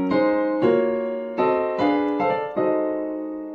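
Piano playing a 2-5-1 progression in drop 2 voicings, about six harmonically rich chords struck in a steady sequence, each ringing briefly before the next, clear and close with no talking.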